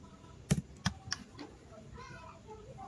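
A few sharp computer keyboard keystrokes while a chapter heading is typed, close and crisp, with two louder strikes early and softer clicks after, followed by quiet room noise.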